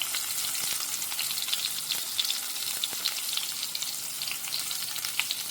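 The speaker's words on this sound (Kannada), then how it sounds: "ಇದನ್ನು ಮಧ್ಯಮ ಉರಿಯಲ್ಲಿ ಬೇಯಿಸ್ಕೊಳ್ಬೇಕು." Brinjal slices frying on a flat tawa over a medium flame, giving a continuous soft crackling sizzle with tiny pops, steady and close, no talking.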